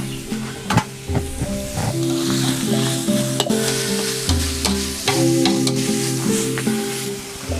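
Minced pork stir-fried with chili for Northern Thai nam prik ong, a loud continuous sizzle with repeated scraping and clanking of a spatula against the pan, close up and without talk.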